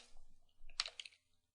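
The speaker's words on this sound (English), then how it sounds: "We'll type in ls again" A few quick keypresses on a computer keyboard enter a Linux command, a short cluster of sharp clicks followed by a final lone tap, close and fairly quiet with no talk.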